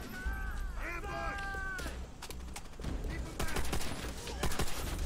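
Battle gunfire in Call of Duty: World at War, with scattered shots and short rapid bursts that build to louder volleys near the end, while a voice speaks over the start.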